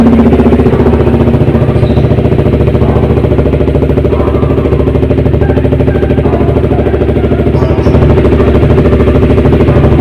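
A fuel-injected Honda CBR 150R RWB HRC Edition motorcycle idles while warming up, a loud, close, steady mechanical chatter with an even rapid pulse that holds without pause.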